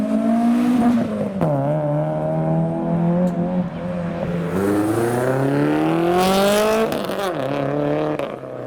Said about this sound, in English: the Supra's leaving